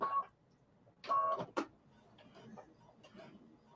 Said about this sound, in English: And I'm back stitching here as well, right?